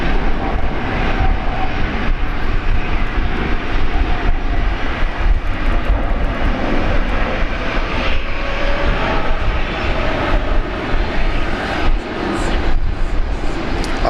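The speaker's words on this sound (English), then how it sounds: "Fitting as the 777 just rolls past." A Boeing 777 airliner rolls past on the ground at Brisbane Airport, its engines giving a steady, loud, broadband roar that holds throughout with no talk over it.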